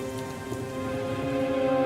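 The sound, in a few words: rain sound effect in animated story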